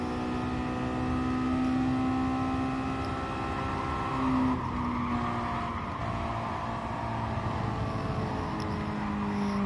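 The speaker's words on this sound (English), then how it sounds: "rev the nuts out of her" A race car engine in Gran Turismo Sport held at high, steady revs, a sustained droning engine tone with slight pitch shifts and a brief swell in the middle, loud and continuous with no talk.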